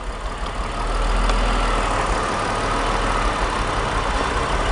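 Steady, close rumble of a BMW E46 3-Series engine idling while a misfire is being diagnosed, continuous and unbroken with no voices.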